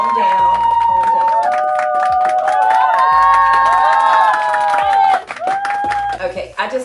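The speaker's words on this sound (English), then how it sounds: "I just thought I would take a moment for the applause" A crowd cheers and shouts with scattered clapping, loud and lively, over steady background noise.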